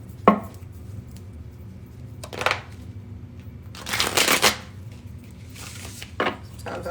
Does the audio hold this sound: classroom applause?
no